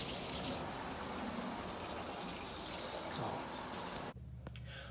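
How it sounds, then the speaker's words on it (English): Water from an RV shower runs steadily and close as it rinses pink antifreeze down the drain, a dense continuous spray that cuts off abruptly near the end. "I'm just going to wash the antifreeze down the drain so that it's ready to shower in"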